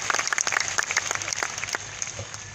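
Audience applause at a village motivational speech, a moderate, steady patter of many hands clapping throughout, fairly thin and not very loud.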